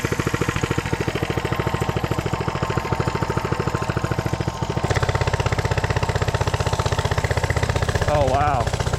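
Coleman CC100X mini bike engine idling on choke, a steady rapid putter close by with a slight change in pitch midway and a short higher whine near the end.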